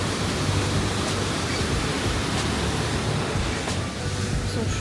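A waterfall cascades near a sanctuary in Chiang Mai, its steady, loud broadband rush of falling water filling the scene without a break, close by.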